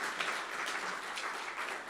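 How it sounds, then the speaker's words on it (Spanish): A church congregation applauding a newcomer during a Sunday service, steady mass clapping heard somewhat distantly and moderately quiet, continuous for about two seconds with no talk over it. "Demos un aplauso a Daneira, mis hermanos, por favor."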